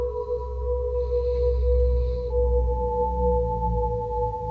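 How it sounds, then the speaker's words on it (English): Steady pure sine tones from a Eurorack modular synth, three resynthesized sine waves, hold at a few pitches, with a washy reverberant tail and a faint higher tone drifting in and out; continuous and smooth. "it's taking 3 sine waves and trying to resynthesize that, and of course, passing it through some reverb"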